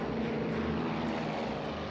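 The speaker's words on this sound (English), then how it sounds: "US Airways Express Flight 5481 departs from Charlotte," A Beechcraft 1900 commuter turboprop departing Charlotte, North Carolina, gives a steady, loud engine and propeller roar throughout, with no voices.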